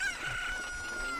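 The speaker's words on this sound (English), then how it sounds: "Right. So, chicken." A rooster crows in the video game The Legend of Zelda: Ocarina of Time 3D, a single drawn-out synthetic cock-a-doodle-doo heard fairly quietly against a steady hiss.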